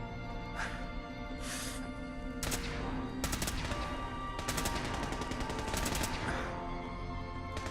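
Fallout 4 gunfire in a corridor at Fort Hagen, with repeated rapid bursts of shots over a steady background rumble, loud and close throughout.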